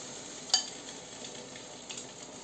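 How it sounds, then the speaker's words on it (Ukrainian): Zucchini slices coated in flour and egg fry in a pan, a soft steady sizzle with one sharp click near the start and a faint clink later, quiet and without talk. "обкатую тепер у яйце цей лизіон і кладу смажити"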